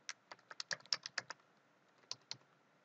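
Password typed on a computer keyboard while setting up a Linux virtual machine in Azure, a quick burst of close, crisp key taps, a brief pause, then two more presses.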